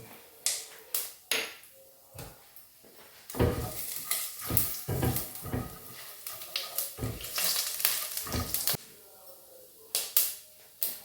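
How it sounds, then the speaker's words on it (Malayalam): Black and white sesame seeds and mustard seeds dropped into hot oil, bursts of crackling sizzle and sharp popping that come in irregular clusters, fairly close, with quieter gaps between them and no talking. "കാൽ ടീസ്പൂൺ കടുക് ഇട്ട് കൊടുക്കുക ടീസ്പൂൺ എള്ളിട്ട് കൊടുക്കുക"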